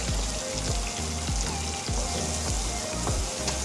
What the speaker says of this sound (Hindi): टमाटर को 2 मिनट तक इसके अंदर हम फ्राई करेंगे और हरी मिर्चें भी साथ ही इसमें ऐड कर देंगे